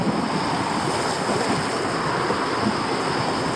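Steady wind blowing across an English seafront on a bright, nippy day, a constant close roar with gusty buffeting on the microphone and a faint wash of surf beneath, no voices.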